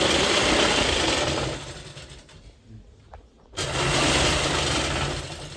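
Domestic sewing machine running steadily while stitching a folded saree cover onto an old quilt, a loud close whirring drone that drops away briefly mid-stitch, then resumes at full speed.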